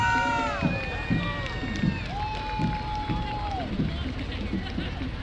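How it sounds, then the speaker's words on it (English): Parade crowd at the Buffalo Grove Days parade cheering and clapping outdoors, a steady wash of voices and applause with scattered shouts and whistles, loud and continuous throughout. "a nice round of applause for my employer, the Buffalo Grove Park District"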